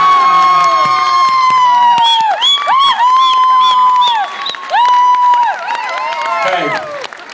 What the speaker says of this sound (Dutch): Dames en heren, jullie applaus voor Ken!